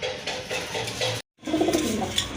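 Rajgolla pigeons coo softly and repeatedly nearby, with a brief pause midway before the cooing resumes.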